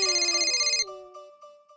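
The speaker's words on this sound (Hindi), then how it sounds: "ये उन्हीं का फोन है।" A phone ringtone plays a bright electronic melody nearby, then cuts off abruptly, leaving a few fading tones.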